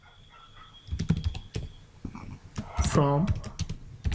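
Typing an SQL query on a computer keyboard, a close, uneven clatter of keystrokes running under a voice speaking.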